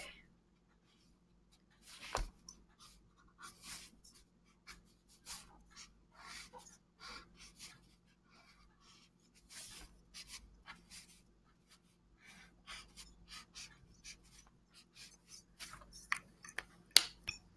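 A pen sketches quickly on paper, making a run of faint, close scratching strokes in short bursts over a quiet background, with brief pauses between lines and no talk.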